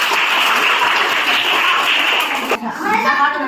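Classroom children clap together in a loud, continuous burst during a word game, with chatter and a voice mixed in before a brief dip and more clapping.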